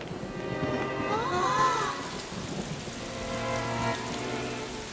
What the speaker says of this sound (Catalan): Com plou. Sembla mentida.